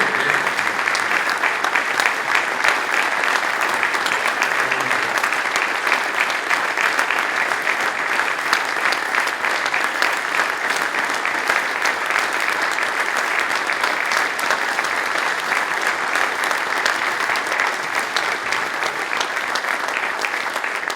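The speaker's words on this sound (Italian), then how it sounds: "E un grosso applauso anche per il nostro socio" A concert audience at an alpine troops' anniversary concert keeps up loud, dense applause for about twenty seconds, a steady rattle of many hands close by with no talking.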